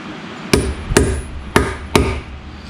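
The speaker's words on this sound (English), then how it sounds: "I take my center punch and hammer, and I'll give myself a nice center punch" A hammer strikes a center punch on a Hutchinson Rock Monster beadlock wheel, four sharp metallic taps spaced about half a second apart, close and clear.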